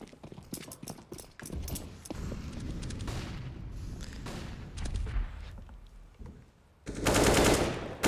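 Rapid bursts of automatic gunfire from Counter-Strike on the Nuke map, a dense clatter of shots with metallic mechanical clicks, ending in a loud, sustained roar of fire up close near the end.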